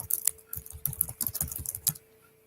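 Quick bursts of typing on a computer keyboard, close and crisp, with several rapid key clicks over about two seconds before falling quiet.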